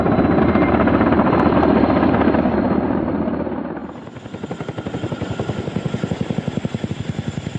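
A Soviet Mi-6 heavy transport helicopter flying, a loud steady rotor roar that eases into a clear rhythmic blade thump, close and with no voices.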